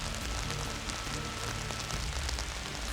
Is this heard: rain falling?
yes